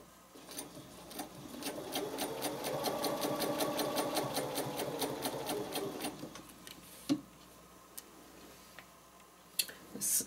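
A sewing machine stitches a spider web quilt design in a close, steady mechanical whir with rapid ticking for about six seconds, then stops, leaving a few scattered clicks and handling noises.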